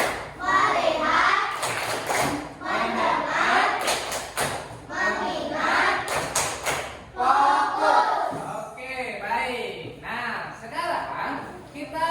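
Children in a classroom perform the "tepuk fokus" focus clapping routine, with rhythmic bursts of claps alternating with chanting children's voices, loud and close.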